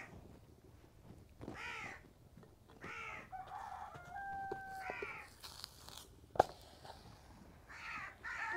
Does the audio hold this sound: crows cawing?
yes